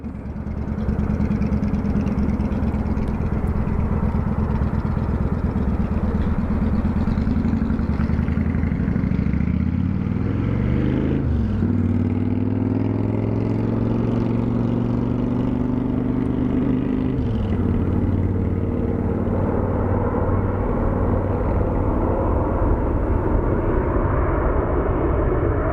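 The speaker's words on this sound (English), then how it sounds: "Departing for Albuquerque is the Southwest" A Southwest airliner departing for Albuquerque from Phoenix Sky Harbor International Airport, its jet engines giving a continuous loud roar with a spooling tone that shifts midway, heard from a distance across the airfield.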